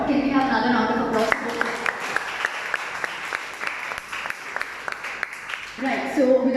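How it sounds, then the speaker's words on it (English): An audience at a college music competition event applauds steadily for several seconds, with crisp individual claps audible, framed by a host speaking before and after. "Can we have another round of applause?"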